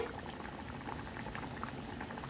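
Red curry simmers in a pan, a faint, even bubbling and popping that stays steady throughout, close but soft, with no one speaking.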